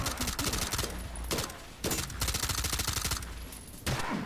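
Rapid bursts of automatic gunfire in the tactical shooter Ready or Not crackle in loud, dense volleys, broken by brief pauses between strings of shots.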